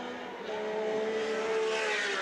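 Touring race cars at Lakeside in a 1984 Australian Touring Car Championship round, engines roaring past on the main straight in a loud, sustained drone that swells as they go by, with no talk.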